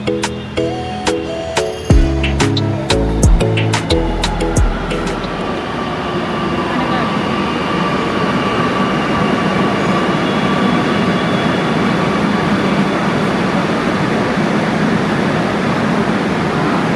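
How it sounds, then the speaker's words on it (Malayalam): A Kochi metro train pulls into the station, a loud rising rumble and whine that settles into a steady roar, after a chime-like electronic announcement tone at the start, with talk heard. "അങ്ങനെ തന്നെ ഞങ്ങളുടെ മെട്രോ എത്തി ഭാഗത്ത് വരികയാണ്"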